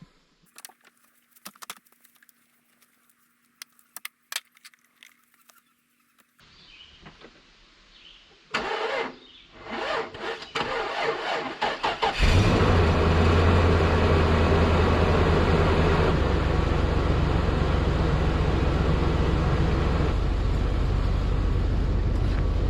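A dump truck's engine, just back from a gas line repair, cranks after some clicks and clatter, then catches and settles into a loud, steady idle close by.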